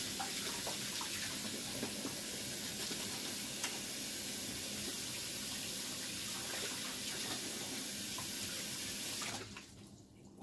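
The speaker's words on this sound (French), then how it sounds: "je me rince les mains" Hands rinsed under a running kitchen tap while cooking stuffed round courgettes, a steady broadband splash of flowing water lasting about nine seconds before the flow cuts off abruptly near the end.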